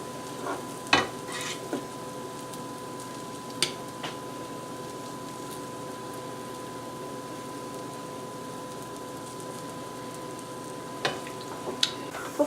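Potato cakes frying in a pan give a steady, low sizzle that runs throughout, broken now and then by a few brief clicks and scrapes.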